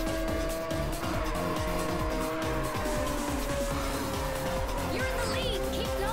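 Tires skid and squeal as a car drifts through corners in Ridge Racer 7, a continuous loud screech over a steady engine roar, with in-game music running underneath.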